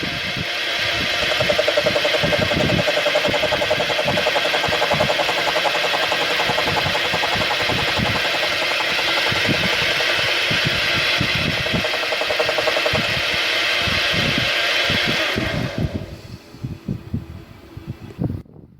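Milling cutter feeding into a bevel gear blank on a mill with a dividing head, a continuous loud machine drone with rhythmic cutting chatter that runs steadily and then winds down near the end.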